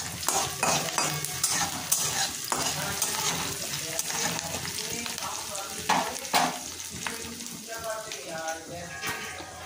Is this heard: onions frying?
yes